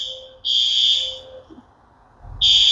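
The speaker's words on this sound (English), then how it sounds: "That is a fire alarm." A fire alarm blares in loud, steady electronic bursts, a long tone that cuts off and then starts again.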